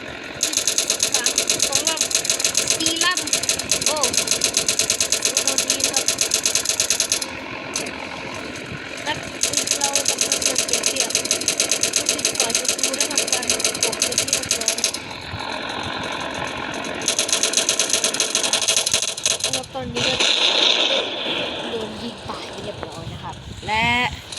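A loud, steady buzzing propeller-plane engine drones in a kamikaze flight video game, cutting out briefly a few times and resuming, with someone talking over it.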